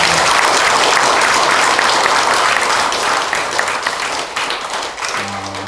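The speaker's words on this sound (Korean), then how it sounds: "박수 한번 보내주십시오." A congregation at a Won Buddhist temple dedication ceremony applauds loudly and continuously, the dense clapping fading slightly toward the end as a low voice returns.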